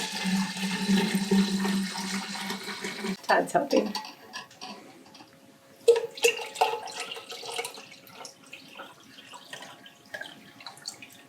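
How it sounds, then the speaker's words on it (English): Tea pours and splashes into a kombucha vessel for a few seconds, then gurgles and drips as people talk nearby. "So I'm just gonna pour this into my kombucha vessel."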